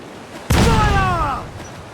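A single heavy ship cannon shot in Assassin's Creed IV Black Flag, a sudden loud boom that rolls and decays over about a second, with a faint tonal whine fading underneath.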